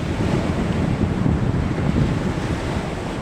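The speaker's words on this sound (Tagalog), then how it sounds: "basa ka pa rin sa alon kaganitong alon" Rough ocean waves at sea around a small fishing boat, a steady, loud, close roar of surf and rushing water mixed with wind buffeting, continuous for the whole stretch with no voices.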